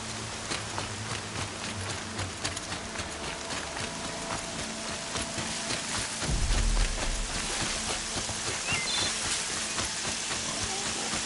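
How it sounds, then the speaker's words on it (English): Steady rain in the video game Horizon falls with a dense patter and hiss, and a brief low rumble swells midway through. "Rain's not so bad."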